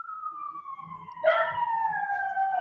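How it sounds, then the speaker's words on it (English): A siren wails with a long sliding tone that jumps and keeps sounding, fairly close and loud, with faint low noises underneath. "So he hears the sirens."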